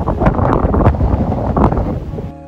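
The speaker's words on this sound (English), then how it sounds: "It's been extremely windy." Strong coastal wind at Romney Sands, England buffets the microphone with loud, rough low-frequency roaring and gusting, ending abruptly.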